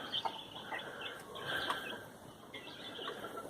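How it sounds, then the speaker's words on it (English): Chickens clucking and calling at a large homestead coop, several short scattered clucks and calls over a quiet outdoor background, moderately distant and fairly soft. "There's our big chicken coop over there."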